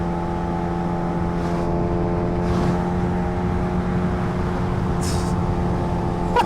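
Kawasaki Ninja H2R motorcycle in sixth gear at top speed, its engine a steady loud drone at a constant pitch, heard close with rushing wind and a few brief gusts over the top.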